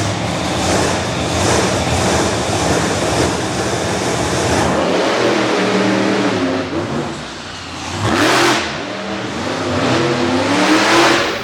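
Dirt track race cars with big block Chevy engines roar around the track, a loud, dense mix of revving motors that swells and fades as cars pass, continuous throughout.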